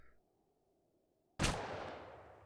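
A single loud gunshot from an AK rifle in the video game Totally Accurate Battlegrounds cracks sharply after near silence at a shooting range, then trails off in a long, fading echo.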